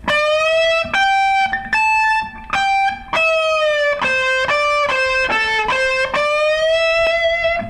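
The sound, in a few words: guitar playing a riff with string bends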